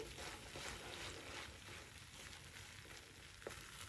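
Jaggery kesari made with flattened rice and semolina cooks in a pan while being stirred, giving a steady soft sizzle and bubbling with faint scraping throughout and no voices.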